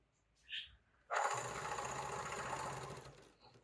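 Sewing machine stitching quilting lines across a mitered blanket, a sustained steady mechanical whir starting after a brief faint sound and running for over two seconds before trailing off.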